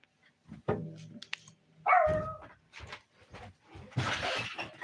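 A dog barks in several short bursts, fairly close, with a sharper, louder bark near the middle and more barking toward the end, set among quiet pauses in an indoor room.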